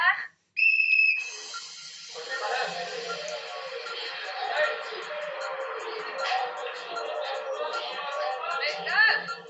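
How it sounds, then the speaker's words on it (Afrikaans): A single shrill whistle blast opens a children's party game, followed by music starting and a noisy crowd of excited voices cheering and chattering throughout. "Die musiek sal begin op my fluitjie."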